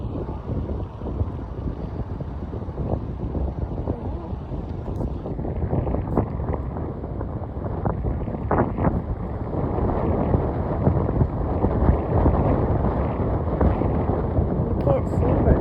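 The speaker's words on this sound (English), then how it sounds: "Pretty windy out here." Strong wind blows continuously outdoors at Manchester, New Hampshire airport, buffeting the microphone with a loud, dense low rumble that builds slightly toward the end while a plane is expected to land in a crosswind.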